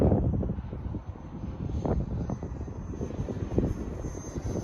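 A Freewing English Electric Lightning radio-controlled jet with a 64mm electric ducted fan flies overhead outdoors, giving a steady high-pitched fan whine under heavy gusts of wind rumble on the microphone, with no talking.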